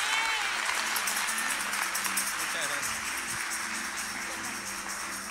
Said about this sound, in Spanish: Le recibimos con unas palmas